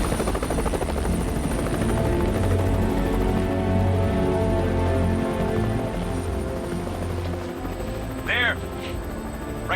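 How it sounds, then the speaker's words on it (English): A specialist Air Force search helicopter flies overhead, its rotor thudding and engine droning loudly and continuously, with a voice talking over it. "A specialist Air Force helicopter with night vision headsets has been drafted in to allow the airborne surge to continue through the night"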